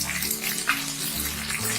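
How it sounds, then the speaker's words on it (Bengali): Paneer pieces fry in hot oil in a kadai, giving a steady, close sizzle with dense crackling that carries on evenly throughout. "তেল গরম হয়ে গেছে, এবার আমরা অল্প অল্প করে পনিরগুলোকে দিয়ে দিচ্ছি।"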